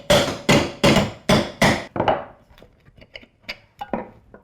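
A hammer whacking a pot to punch drainage holes, five sharp loud metallic blows in quick succession, followed by smaller scattered taps and rattles, close and alone.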